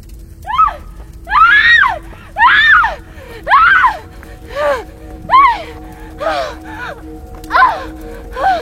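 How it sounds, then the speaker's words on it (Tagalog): A series of loud, piercing screams with rising and falling pitch, repeated about nine times with short pauses, ringing out in a reverberant room with fire. "Umaalingaw-ngaw na sigaw niya sa apat na sulok ng silid na iyon."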